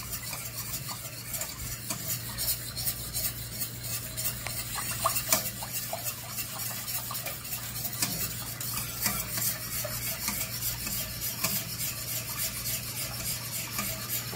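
A milk, Nido powdered milk and cream mixture for crème caramel stirred continuously in a pot as it heats, a steady close scraping and rubbing with a faint sizzle underneath, no talking.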